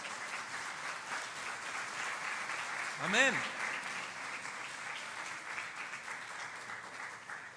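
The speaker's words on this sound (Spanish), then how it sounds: "Le doy una ofrenda de palmas a Dios por su amor." A church congregation applauds as an offering of praise to God, a dense, steady patter of many hands clapping in a reverberant hall, with a voice breaking in briefly near the middle.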